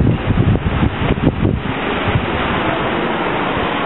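Ocean surf rolling onto the shore beside a dune on Cutthroat Island, a loud, continuous broadband wash heavily mixed with wind buffeting the microphone, with no voices.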